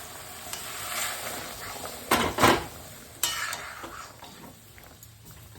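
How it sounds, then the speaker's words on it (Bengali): Tomato, coriander and green chilli spice paste sautéing in a pan: a steady close sizzle with spoon scraping and stirring, two louder bursts of frying and clatter midway, then settling back to a quieter hiss. "টমেটো আর ধনে পাতা বেটে, কাঁচা লঙ্কা বেটে মশলাটা কষাচ্ছি।"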